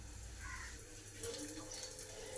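Water pouring from a tap over potatoes in a pressure cooker, a soft steady splashing stream, close but faint.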